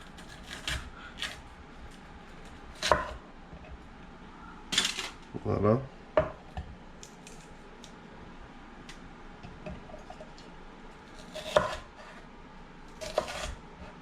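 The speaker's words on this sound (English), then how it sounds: "Chopping this healthiness." A knife chopping mushrooms, peppers and onions on a kitchen cutting board gives sporadic sharp taps and short bursts with long pauses between them, and a single word is spoken briefly.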